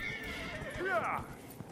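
A brief, quiet horse whinny from the video game Dragon Age: Inquisition trembles up and down once, faint against a low background hum.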